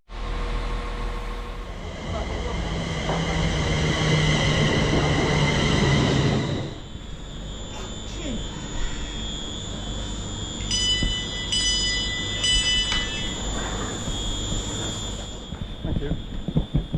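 A London Northwestern Railway train rumbles loudly into the station, with a steady low drone that eases after a few seconds as faint voices and platform noise carry on.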